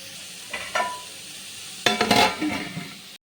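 Prawns fry in a pan with a soft sizzle, broken by a brief utensil clink early and then a louder burst of stirring and scraping against the pan, all close with no talking.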